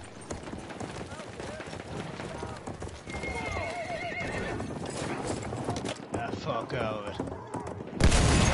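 Galloping hooves and repeated neighing from a horse ridden in the video game Battlefield 1 on PS5, set against a busy battlefield mix with distant gunfire, growing louder and denser toward the end.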